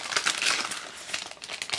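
Plastic packaging bag around a Tenda N3 Wi-Fi router crinkling and rustling during an unboxing, close and continuous with bursts of sharper crackle, no talking.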